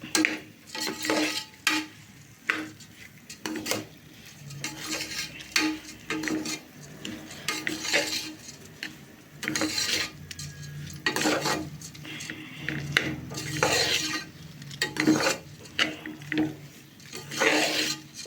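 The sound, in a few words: stirring veg biryani rice in a pot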